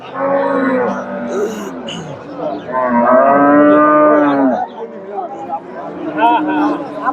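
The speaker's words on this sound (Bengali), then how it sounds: "দর্শক এখানে একটা গাভী দেখেন" Cows at the Chandaikona cattle market in Bangladesh, loud, drawn-out moos near at hand, several calls overlapping one after another against a busy market background with people speaking.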